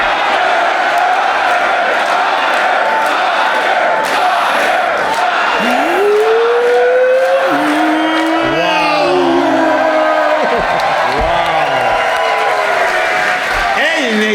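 A voice imitates a car spinning its wheels and pouring out smoke, a rising, whining vocal screech with wavering tones, heard over a lively, cheering and clapping crowd in a loud room.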